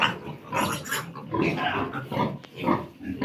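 Young gilt, a future breeding sow, grunting and snuffling close by in repeated short bursts, fairly loud, with no talking over it.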